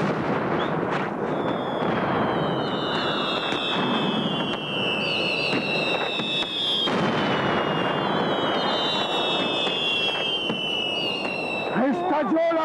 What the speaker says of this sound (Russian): Порох взорвался для фейерверка.